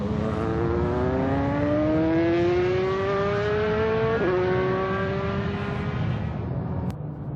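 A Nissan GT-R runs flat out on the Buddh International Circuit, its loud engine howling steadily upward through the gears with a brief shift dip, then easing off near the end, with no talk.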